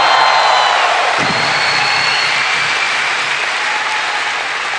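Loud, sustained applause from a large audience at a Narendra Modi speech in America, dense clapping that continues for the whole stretch and slowly eases off.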